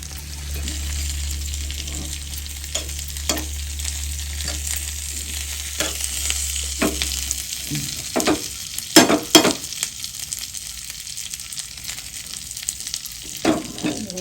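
Leaves sizzle in hot oil with a continuous crackling fry, punctuated by stirring scrapes and clinks, a low hum fading out midway.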